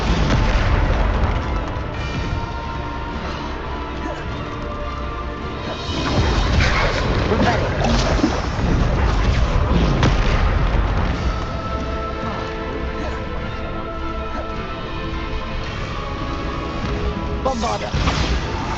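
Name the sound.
Bombarda spell explosions in Hogwarts Legacy video game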